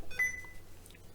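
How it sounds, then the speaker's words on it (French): A short electronic bleep from an unidentified device sounds once near the start, a thin high tone against a quiet room during vape wick building, with faint rustling after it. "Je sais pas ce qui fait mon bip bip là"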